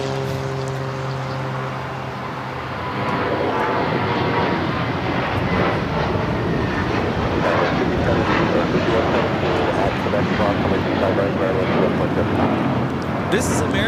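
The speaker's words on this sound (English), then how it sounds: "2965 taking off to Dallas Fort Worth on the A321" An American Airlines Airbus A321 takes off from LAX bound for Dallas Fort Worth, its engine roar building after a few seconds into a loud, sustained broadband rumble.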